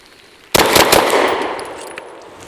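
A Derya Arms DY9 fires three rapid rounds from an AC Unity windowed aftermarket magazine: one loud, sharp report quickly followed by two more, with a ringing decay trailing off and no speech.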